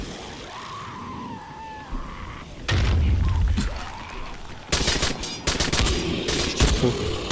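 Gunfire in the video game Dying Light The Following comes as bursts of rapid, loud automatic shots in the second half. Earlier there are rumbling impacts and rattling over muffled game ambience.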